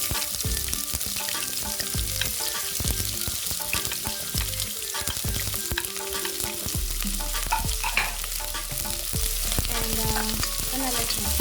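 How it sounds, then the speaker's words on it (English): Onions for a beef stew fry in a pot, a loud, dense crackling sizzle that runs continuously with scattered sharp pops, heard up close and alone. "I'm going to add in my onions."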